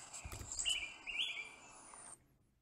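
A recorded target bird call plays back through a device, giving a short bright series of chirps and whistled notes for about two seconds before cutting off.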